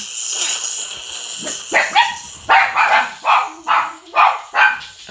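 Dogs barking inside a Roblox obby game: a run of loud, evenly spaced bark-like yelps, about eight in a row, played over steady background game noise.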